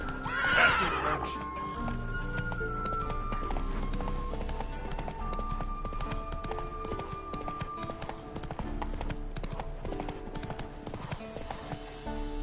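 Roach, a horse in The Witcher on PS5, gallops with rhythmic clip-clop hooves and lets out a clear, close whinny early on, all over steady game music.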